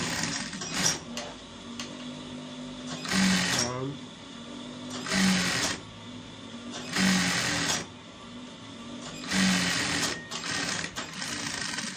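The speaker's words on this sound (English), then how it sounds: "So this is how to join, sewing it from the wrong side. So I'm sewing down," A sewing machine stitches a dashiki seam from the wrong side of the fabric, running in several loud bursts of rapid stitching separated by short pauses, with a person talking throughout.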